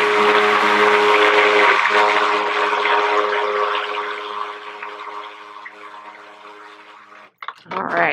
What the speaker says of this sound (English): Just push it down with your stick blender.